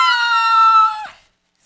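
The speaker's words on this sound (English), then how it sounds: "when we say this secret word, you have to scream like this." A single loud, high, sustained scream rings out at a live costume-party show, holding a steady pitch for about a second before cutting off abruptly into silence.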